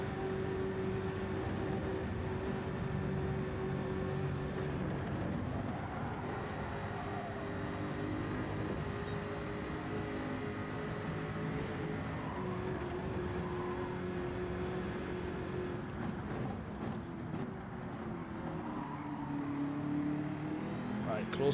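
Jaguar race car engine in Gran Turismo during a Nurburgring 24-hour qualifying race, a steady mid-pitched engine drone with shifting revs running throughout, with commentary talk over it.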